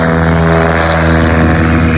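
A tail-wheel Legend Cub light airplane with leading edge slats roars at full throttle on its takeoff roll at a fly-in, its propeller and engine drone loud, close and steady.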